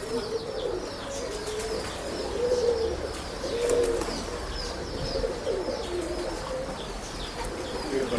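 Pigeons coo repeatedly in soft, rolling phrases at a pigeon shop, overlapping over a low steady background with occasional chirps and faint wing flutters.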